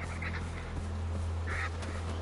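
Birds call in Far Cry 4: two short, faint, quacking squawks, a few seconds apart, sound over a steady low hum.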